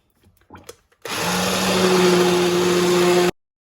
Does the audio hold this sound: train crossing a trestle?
no